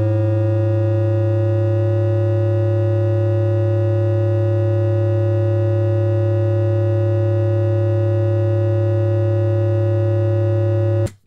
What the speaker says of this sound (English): in AM synthesis, what happens is we have the original oscillator, and then it creates two sidebands